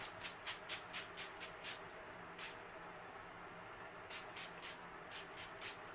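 Milkshake leave-in conditioner sprayed onto hair from a pump bottle, a quick run of six short hissing spritzes, then one lone spray, then another burst of several, close and fairly soft.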